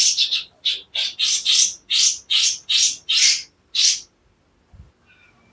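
A white-rumped shama, a murai songbird, gives a run of about ten loud, close, repeated whistled notes in quick rhythm, then falls quiet, with a faint soft sound afterward.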